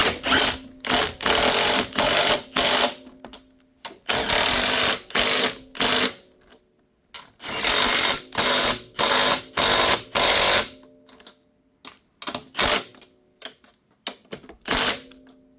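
Ratchet tightening the 14 mm top mount bolts on a 2000-2003 fifth-generation Nissan Maxima's Godspeed coilovers, with many loud, close bursts of rapid clicking in short strokes and brief gaps, steady and repetitive throughout.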